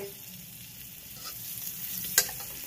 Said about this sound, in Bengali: এবার কড়ায় বাটার দিয়ে একে একে রান্নাটা করতে থাকবো